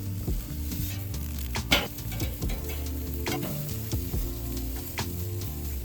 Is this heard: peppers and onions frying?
yes